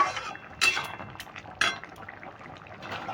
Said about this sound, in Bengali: এবার আমি ভালো করে নেড়ে নিচ্ছি